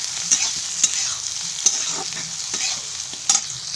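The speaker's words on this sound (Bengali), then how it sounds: "একটু লবণ দিয়ে একটু ভালো করে লাল লাল করে ভেজে নিই" Onions frying in oil with a pinch of salt, cooked until reddish-brown: a loud, continuous sizzle with a few crisp spatula scrapes against the pan, close up and with no talking.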